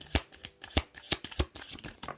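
Tarot cards shuffled by hand in a quiet room, a series of sharp papery riffles and slaps in an uneven rhythm, fairly close and moderately loud with no talking.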